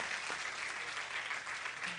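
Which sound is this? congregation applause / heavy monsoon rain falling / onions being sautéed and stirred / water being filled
congregation applause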